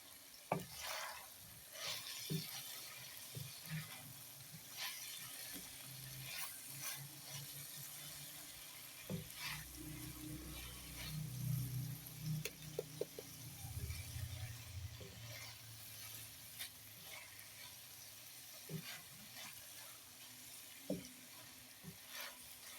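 Spatula scraping repeatedly in a pan while aloo gobi fries with whole cumin and chopped green chillies, a soft steady sizzle under irregular clicks and scrapes, close and fairly quiet, no voices.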